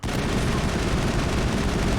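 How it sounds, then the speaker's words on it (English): Dense, continuous gunfire and sniper rounds in the Mass Effect video game, a loud unbroken barrage filling the whole moment with no talk. "These are all just sniper rounds and stuff."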